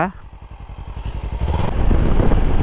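A Kawasaki motorcycle engine idles with a fast, even putter that grows louder and rougher toward the end, heard close up.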